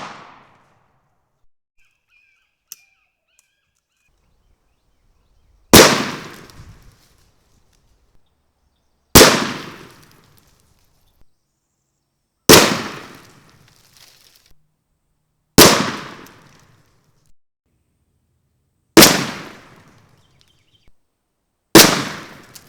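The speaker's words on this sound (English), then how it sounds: "So I'm going to shoot this gun here at 20, 30, and 40 yards." Single-shot 20 gauge shotgun with a full choke firing TSS and Nitro turkey shells outdoors, six loud sharp blasts spaced a few seconds apart, each with a short decaying echo, no talking.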